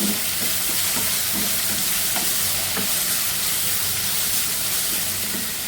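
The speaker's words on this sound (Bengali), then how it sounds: "আলুটা দিয়ে দিচ্ছি একটু ভেজে নিব আগে" Potatoes frying in a pan at a home stove, a steady close sizzle with soft stirring scrapes throughout, no voices.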